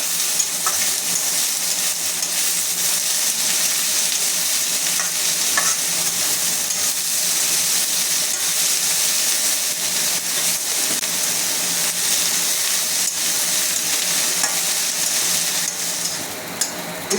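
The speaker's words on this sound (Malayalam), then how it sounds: "ഇതിപ്പോൾ നമ്മൾ ഉള്ളിയും കൂടി ഇട്ടിട്ട് നന്നായി ഒന്ന് അസലായിട്ടൊന്ന് വഴറ്റെടുത്തു" Onions sautéing in a pan for kanda poha, a continuous bright sizzle with occasional stirring scrapes, steady and close throughout.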